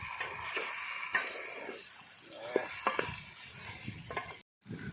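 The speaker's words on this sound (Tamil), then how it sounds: "அப்படியே தண்ணியே ஊற்றாமல் அப்படியே நல்லா டீப் ஃப்ரை ஆகிட்டுருக்கு" Chicken sukka deep frying in oil without water, a steady crackling sizzle with soft stirring scrapes and small pops, close and continuous before a brief cut near the end.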